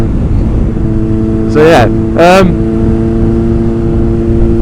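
A Kawasaki ZX9R motorcycle engine idles with a steady tone, then gives two quick, loud throttle blips that rise sharply in pitch and fall back, heard up close with a brief spoken remark.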